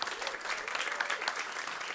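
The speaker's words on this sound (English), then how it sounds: "Joy, give Joy a huge round of applause." Indoor audience applause at a farm-focused event, a steady dense wash of clapping from many hands lasting the full couple of seconds, moderately distant and even.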